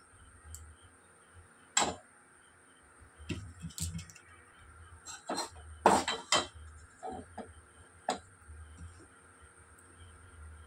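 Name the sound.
stirring powdered milk with warm water in a bowl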